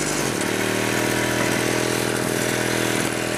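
A warmed-up 1974 Cady M3 engine running steadily, a loud, close, continuous buzzing drone with even pitch and no pauses, alone without talk.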